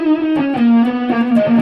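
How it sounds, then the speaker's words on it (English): A heavily distorted electric guitar tone runs through a pedal with the gain at maximum, sustained buzzing chords played alone and loud. "This is full on, and the gain is turned all the way up on the pedal as well."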